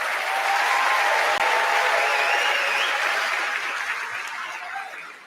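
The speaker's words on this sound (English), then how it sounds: "Round of applause for all of our participants" Steady audience applause for debate participants, a broad dense wash of many hands clapping at close range, holding level and then fading slightly toward the end with no talk over it.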